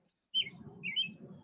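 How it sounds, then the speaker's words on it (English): Birds singing outdoors, two bright, short chirps standing out clearly over a steady low rumble of background noise. "The birds are singing."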